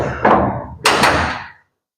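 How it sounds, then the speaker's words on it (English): A door is slid into place and latched, giving two heavy close thuds with a scraping, rattling tail before the sound cuts off to silence. "I'm going to use my latch to support the back of the door"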